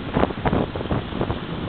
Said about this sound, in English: So windy and it's so bloody cold.